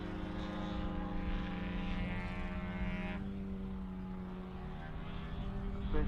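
A model aircraft flies a display at a model airshow, its engine a loud, sustained buzzing drone with a shifting pitch that dips partway through, heard alone.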